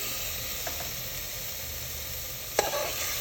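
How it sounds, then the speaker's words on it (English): Masala with chopped tomatoes and tomato puree sautéing on a medium-high flame, a steady close hiss and sizzle with a couple of brief spatula taps. "Saute again on a medium-high flame."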